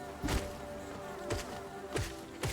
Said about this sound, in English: Oh my god, that's a lot of bees